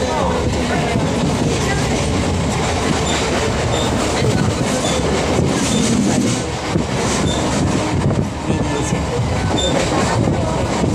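A passenger train passes close by with a loud, continuous rumble and rhythmic clatter of wheels on rails that holds for the whole stretch.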